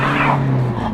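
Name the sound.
car wheel spin on snowy road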